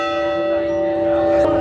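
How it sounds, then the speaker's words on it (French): Church bells ringing in a church on the Iberian Atlantic coast, a sustained loud metallic tone with lingering hum and overtones and a fresh strike near the end. "Tu veux faire sonner les cloches?"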